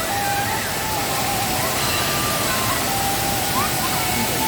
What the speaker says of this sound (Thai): ดูครับน้ำตกแม่กำปองครับชั้นที่1